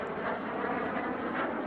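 A Cessna A-37B Dragonfly jet aircraft flying at an air display, giving a steady, broad jet roar at moderate distance, brief and continuous, with no speech.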